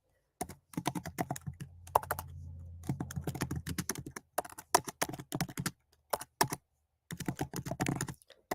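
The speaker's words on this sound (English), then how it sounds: "I'm just going to type in the link here" Fingers type on a computer keyboard in quick bursts of light clicking keystrokes, pausing briefly between runs, close and clear with no talking.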